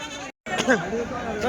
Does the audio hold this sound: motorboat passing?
no